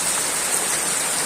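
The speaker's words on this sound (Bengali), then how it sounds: "বৃষ্টি পড়িতেছে," Rain falls steadily outdoors, producing an even, continuous hiss with no distinct drops or voices.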